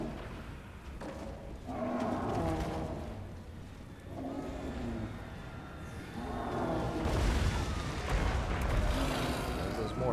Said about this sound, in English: There's those mortars